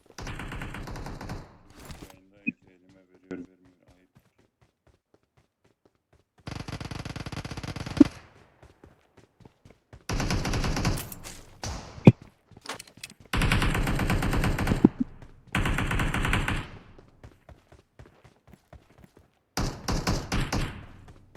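Bursts of automatic gunfire in the mobile battle royale game PUBG Mobile, coming in several separate volleys of sharp rapid shots with quiet gaps between them.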